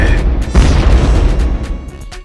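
Explosion sound effect dropped in as a gag, a single loud boom with a sharp onset and a long rumbling, crackling tail that slowly fades, heard alone without speech.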